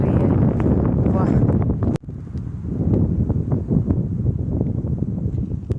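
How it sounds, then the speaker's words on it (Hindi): Strong wind in a deodar forest in the mountains, loud buffeting rumble against the microphone with a brief dropout midway, leaves rustling faintly beneath. "यहाँ पे ना विंड इतनी तेज़ चल रही है, विंड की पूछो मत"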